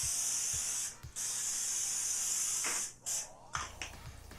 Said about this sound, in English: this is the spray that I use. Like I said, you know, my regular baking sheet pan. So we're gonna just spray it.